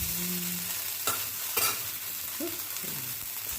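A taro root dosa sizzles gently as it roasts on a pan, a soft continuous frying hiss with a few brief scraping clicks from stirring or turning, and no talking.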